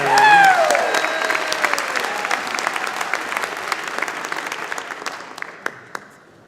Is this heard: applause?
yes